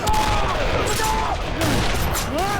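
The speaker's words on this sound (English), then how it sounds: "Good thing the artillery came in." Artillery fire and gunfire from a zombie drama TV show, a loud sustained barrage of booms and shots with shouting voices over the top throughout.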